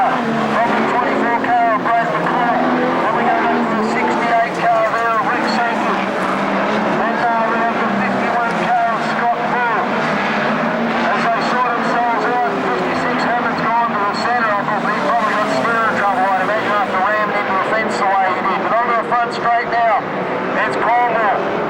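Street stock race cars on a dirt track during a standards final, engines roaring loudly and continuously as the field circles onto the front straight, with a race commentator talking over the constant mechanical drone.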